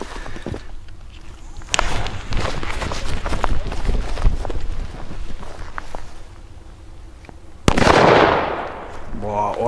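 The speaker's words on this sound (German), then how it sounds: "Also wirklich schöne Böller, muss man sagen." Footsteps and rustling near the microphone, then one sharp, loud Funke DJF Thunder firecracker bang followed by a crackling burst.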